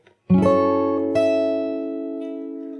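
Thumb-swept guitar chord from the Animal Crossing New Horizons theme, ringing out close and clean, followed by a second bright struck note that sustains and slowly fades.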